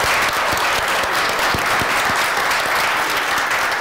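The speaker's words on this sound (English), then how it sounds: "A big applause to both of you." An audience at a panel event marking the world population reaching 8 billion breaks into loud, dense applause, a steady continuous wash of many hands clapping close and full with no talk over it.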